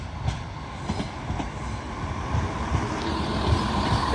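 A Skegness to Nottingham service pulls out of Grantham station with a steady rolling rumble and rhythmic wheel clatter, loud and close, building slightly as it moves away.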